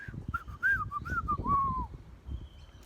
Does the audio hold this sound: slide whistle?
yes